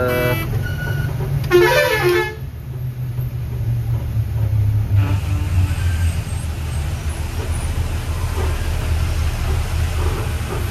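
Heavy road traffic near Ranchi rumbles steadily from a truck cab, with one clear, loud horn blast early on and a constant engine drone throughout.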